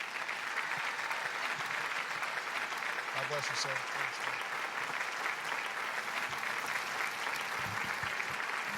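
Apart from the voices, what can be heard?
audience applause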